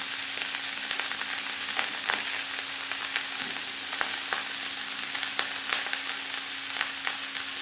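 Fried rice cooks in a pan over a medium flame, giving a steady, close sizzle with a few light scrapes and taps from stirring throughout.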